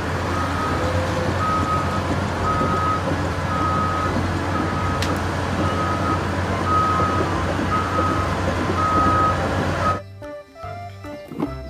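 A garbage truck reversing outdoors, its backup alarm sounding a steady series of evenly spaced beeps over a low diesel engine rumble for about ten seconds before the engine noise abruptly drops away.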